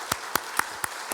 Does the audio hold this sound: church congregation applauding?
yes